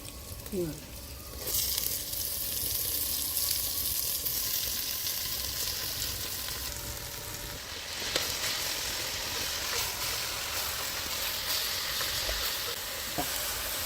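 Spring onion greens crackle and sizzle in hot tempered oil, a continuous hiss with a few sharp spits and stirring noises, heard close and moderately loud.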